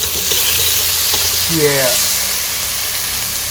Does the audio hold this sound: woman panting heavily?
no